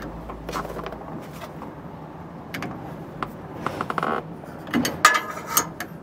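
A wrench snugging down the jam nut on a Roadmaster Exact Center steering stabilizer on a 2004 Ford, heard as a series of close ratcheting clicks and metal clinks in irregular bursts.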